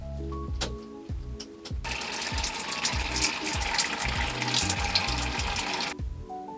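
Cold water runs from a kitchen tap in a steady, loud rush lasting several seconds. A few clicks and knocks come before and after the flow, with no talking.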